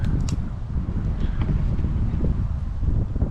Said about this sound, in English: The other thing we got working at us is the wind, which has just picked up.